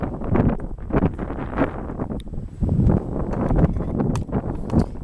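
Outdoor wind buffets a microphone in uneven low rumbling gusts that rise and fall continuously, with faint rustling and a few light ticks on top.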